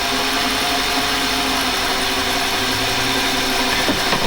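A mini lathe cutter taking a cut with a sharp tool, giving a steady, continuous grinding and chattering whir held at constant loudness close by, with no talk.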